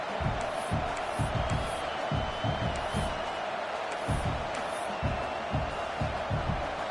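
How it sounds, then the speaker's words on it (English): A football stadium crowd roars during a field goal attempt, a loud, continuous din with rhythmic stomping or clapping bursts and occasional whistles. "This crowd trying to do its part to get inside the kicker's head."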